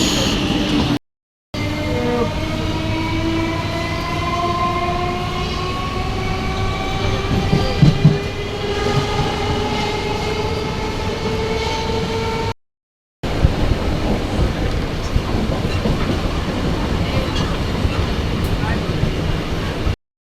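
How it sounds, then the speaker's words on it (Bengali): A down local train from Bardhaman to Howrah pulls into the station, its loud rolling rumble and squealing, tonal brakes filling the platform for about twenty seconds, with people's voices in the background. "চলো ট্রেন এসে গেছে, এবার উঠে পড়ি।"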